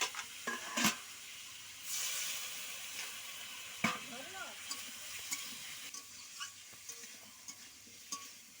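Potatoes sautéing with chilli powder and turmeric in a pan for a mango fish curry, a low, soft sizzle broken by occasional scrapes and stirring knocks, fairly quiet throughout.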